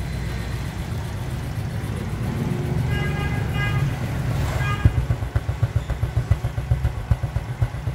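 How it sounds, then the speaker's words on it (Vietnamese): A Honda Wave Thai 110 motorcycle engine idles nearby, a steady rumble that settles into a rhythmic, throbbing chug. "đang nổ máy chứ không phải tắt máy nha anh em"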